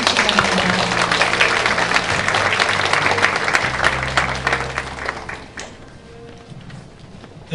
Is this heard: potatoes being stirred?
no